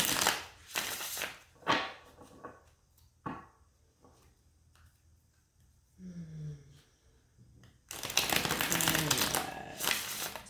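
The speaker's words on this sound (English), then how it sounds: "Let me get a couple of shuffles in here." Tarot cards are shuffled in quick riffling bursts at the start and again near the end, with soft tapping and handling noises in the quiet gap between.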